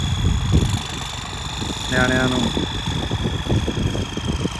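A steady tractor engine drones and idles nearby, its low rumble continuous while someone talks over it.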